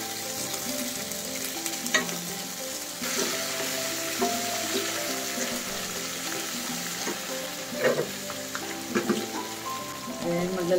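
Crab frying in a pan with cabbage, a steady loud sizzle with occasional scraping and stirring clatter up close.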